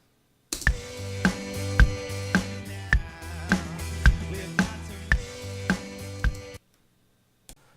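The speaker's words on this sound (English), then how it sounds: "So once it's done, it should sound like this with kick and snare." A programmed kick and snare backing-track pattern for a song plays in a steady repeating beat, clean and alone for about six seconds before stopping.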